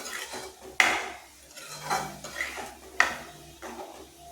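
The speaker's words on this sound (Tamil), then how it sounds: "கிண்டி விட்டு கொஞ்ச நேரம் கொதிக்கட்டும்" A metal spoon scrapes and clinks against a pan while spicy prawn gravy with ground coconut is stirred, several distinct knocks spaced about a second apart over a soft bubbling simmer, close by with no talking.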